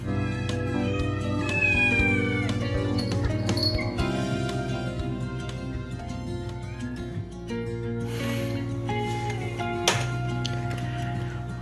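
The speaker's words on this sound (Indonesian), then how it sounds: "ada kucing." Cat meowing in the Jurassic World Evolution video game, several drawn-out meows and wavering cries over a constant low game hum and soft clinks, fairly close and clear, with no talk.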